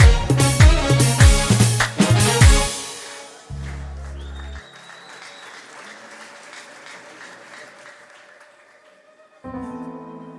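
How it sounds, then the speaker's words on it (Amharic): A congregation claps in a rapid burst of loud applause, fading into a lingering murmur, then a sustained tone returns near the end. "ከዚህ በላይ እልልታ ጨብጨባ ለጌታ።"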